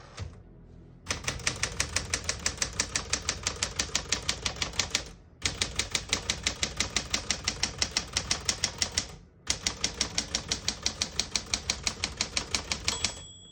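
Typing on a 1967 Smith-Corona Classic 12 portable typewriter: rapid, evenly spaced key strikes in three long runs separated by brief pauses, close and crisp, with a bell ding near the end.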